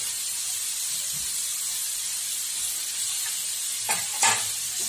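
Green beans with chilli, tomato and curry leaves fry in a pan with a steady, close hiss of sizzling oil, broken near the end by a couple of scraping stirs.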